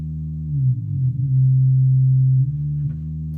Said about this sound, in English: We have a simple sine wave for the low end.